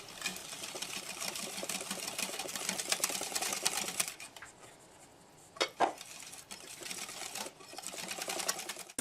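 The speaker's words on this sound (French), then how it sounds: "Tout en remuant avec un fouet manuel ou électrique, selon ce que vous préférez." An electric whisk beats cupcake batter in a bowl with a steady buzzing whir. It stops briefly partway through, then resumes alongside a few light clinks.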